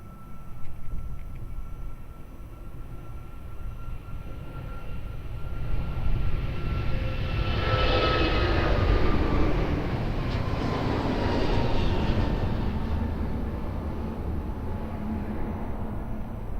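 Airliner taking off from runway 02 at Lisbon Airport, a jet engine roar swelling from a distant rumble to a loud sustained peak, then slowly easing off, heard from outside alongside the runway.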